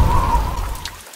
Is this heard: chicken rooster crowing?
no